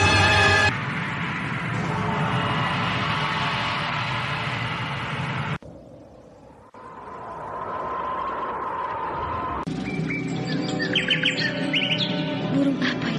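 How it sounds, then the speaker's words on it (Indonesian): A Kinara bird sings in a radio drama, bright chirps and tweets over a steady bed of ambience, with a brief quiet break and then a denser run of song near the end. "suara burung itu bagus sekali"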